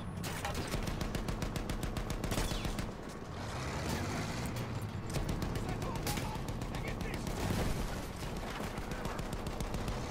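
Gunfire in the video game Battlefield 1, dense repeated shots and bursts going off through the clip, with a person speaking intermittently over the battle.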